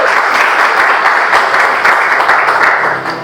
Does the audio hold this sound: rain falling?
no